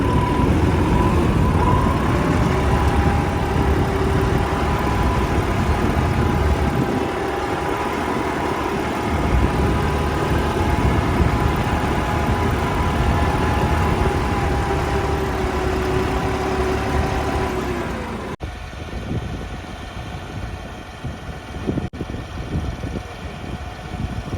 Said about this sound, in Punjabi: ਜੱਸਾ ਬਾਈ ਲੱਗ ਗਿਆ ਹਲ ਮਾਰਨਾ ਚੱਲਦਾ ਟਰੈਕਟਰ